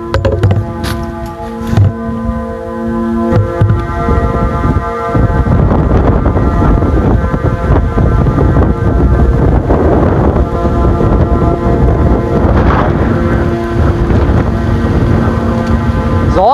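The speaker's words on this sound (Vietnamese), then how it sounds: "đổ ra điện thoại luôn, gió ghê quá" A strong wind on a beach buffets a phone microphone, making a loud, continuous, rumbling roar that swells in gusts and drowns out everything else.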